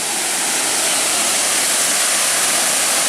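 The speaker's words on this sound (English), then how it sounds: "Oh, what do you think of this waterfall?" Devil's Kettle Falls on the Superior Hiking Trail roars as a steady, loud broadband wash of falling water, close by and unbroken, with no voices over it.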